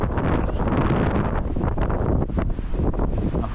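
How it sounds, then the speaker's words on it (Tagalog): Strong wind blowing through trees at a Blue Mountains scenic lookout, buffeting the microphone in a constant loud rumbling roar with gusty fluctuations and no talk. "Sobrang lakas ng hangin yung mga puno."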